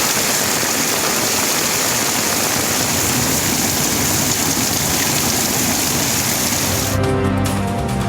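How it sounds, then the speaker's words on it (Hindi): Torrential rain with floodwater in Zafarwal, where the Nikki and Deg streams run in high flood, fills the scene as a loud, steady broadband wash of rushing water and downpour throughout, shifting slightly near the end. "जफरवाल शहर और गिरदोनवा में मूसलाधार बारिश, नाला निक्की और नाला डैक में ऊंचे दर्जे का सैलाब।"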